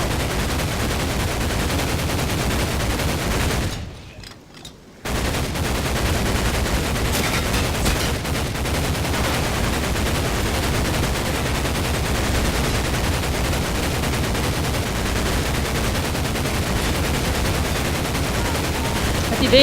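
Sustained rapid gunfire and machine-gun bursts in the 2004 PC game Medal of Honor Pacific Assault, loud and dense throughout, with one brief near-silent gap early on.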